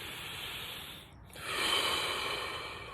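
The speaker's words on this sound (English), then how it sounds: "We take a deep breath physically." A single deep breath, first a long airy exhale, then a short pause and a fuller, louder inhale, close to the mic with no talking.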